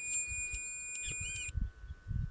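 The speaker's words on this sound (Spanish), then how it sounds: "al tocar hará un bip y habrá numeración en el multímetro" A multimeter gives a continuous steady continuity beep for about a second and a half while probing a car sensor's ground, followed by low handling thumps.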